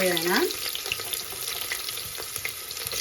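Four small onions fry in a pan on high flame for avarekalu pulao. A continuous sizzle runs throughout with scattered clicks from stirring, and a brief tonal sound is heard at the very start.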